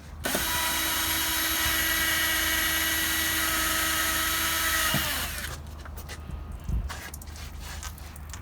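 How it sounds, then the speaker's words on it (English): A power drill bores holes in a boat hull, a steady high-pitched whine for about five seconds that winds down abruptly, followed by quieter scraping and handling noises. "we're drilling holes at the end of the pipe"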